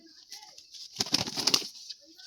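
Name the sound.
pigeons released, wings flapping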